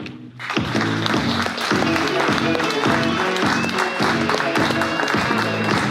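Audience applause for an award guest at a regional charity awards ceremony in Kyiv region: a dense, steady wash of clapping that starts abruptly and holds loud throughout, with a repeating musical fanfare underneath.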